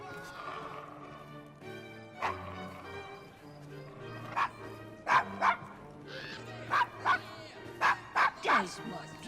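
A dog named Desmond in the game Assassin's Creed Syndicate barks repeatedly in sharp, loud bursts, clustered in quick pairs and triplets, over game music and other in-game sounds with voices speaking.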